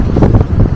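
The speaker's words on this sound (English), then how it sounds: "It's windier than I thought, actually." Wind buffeting a microphone outdoors, a loud, close, continuous low rumble with gusting pulses throughout and no other sounds.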